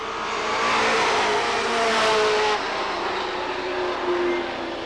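A pack of NASCAR Winston Cup stock cars races past at Lee USA Speedway in 1992, coming off the fourth turn and down the front stretch. Their engines make a loud, continuous roar that swells and then eases slightly.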